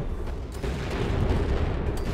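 Meteor impacts exploding in the video game Oxygen Not Included, a dense, continuous rumble of booms and crackling blasts that stays loud throughout, with no clear gaps between hits.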